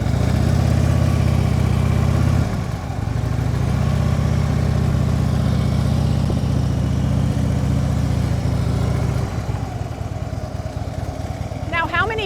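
A motorcycle engine idles and runs steadily at close range while the rider makes a U-turn in a parking lot, dipping briefly partway through and easing off near the end.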